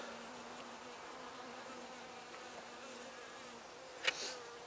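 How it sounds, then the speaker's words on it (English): Bees and yellowjackets droning inside an opened beehive, a faint continuous buzz with a brief louder flyby near the end. "the next few frames have a pretty good concentration of bees"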